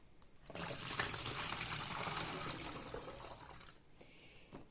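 A mixed plant-growth solution streams into a 1.5-litre bottle in a steady trickling pour that starts abruptly, runs for about three seconds close by and quiet, then stops with a couple of faint drips.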